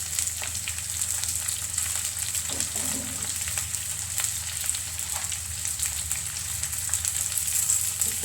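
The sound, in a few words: curry leaves and fish curry ingredients frying in oil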